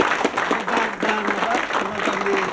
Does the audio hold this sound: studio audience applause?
yes